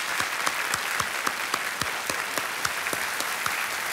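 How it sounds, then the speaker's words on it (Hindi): Loud studio audience applause on a television quiz show, dense continuous clapping with a steady beat of rhythmic accents, close and full throughout. "एक बार फिर से जोरदार तालियां इशिता के लिए"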